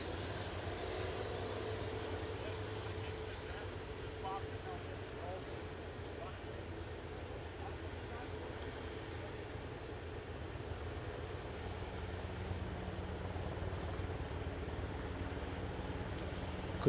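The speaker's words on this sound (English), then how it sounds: "Right, chopper inbound." A helicopter arriving at Aberdeen airport gives a steady, distant engine drone with a low rumble that holds evenly throughout, heard at an airfield with a voice talking over it.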